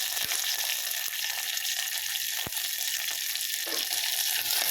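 Small onions, green chillies and curry leaves sauté in a pan for moru kachiyathu, giving a steady, close oil sizzle throughout with a few sharp clicks of a spoon against the pan.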